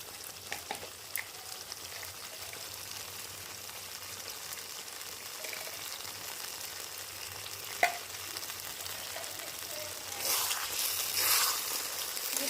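Potol pasinda curry with sugar, homemade garam masala and ghee is stirred in a pan over a soft, low sizzle, with faint spatula scrapes and a brief rise in frying noise near the end.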